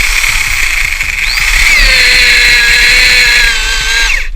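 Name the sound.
power drill boring through a wooden beam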